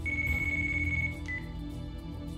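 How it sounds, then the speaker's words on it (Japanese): Cell phone ringing in the video game Yakuza Kiwami: a sustained electronic tone that holds for about a second and then chirps briefly again, over a low, busy game background. "電話鳴ってます。"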